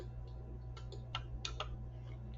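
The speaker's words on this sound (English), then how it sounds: "We're going to type in" Typing on a computer keyboard, a handful of light, quick key clicks in a short cluster, faint and close over a steady low hum, with no talk.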